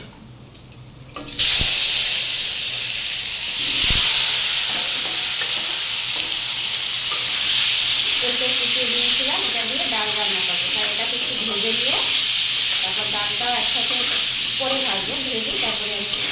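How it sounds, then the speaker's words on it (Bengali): Ginger frying in oil in a pan, a steady sizzle that starts abruptly after a quiet moment and carries on loudly, with stirring scrapes and clinks through the later part. "আমি এবার ভেজে নেব"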